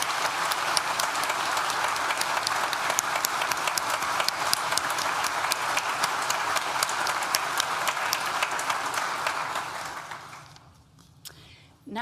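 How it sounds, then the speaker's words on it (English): A large graduation ceremony audience applauds steadily in a big hall, a loud, dense wash of clapping held for about ten seconds before tapering off near the end. "Please join me in thanking them with a well-deserved round of applause."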